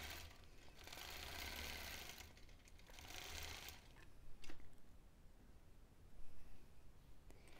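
A quilting sewing machine bastes a quilt in two sustained bursts of rapid, even stitching, fairly close and moderately loud, followed by quieter clicks and handling noises.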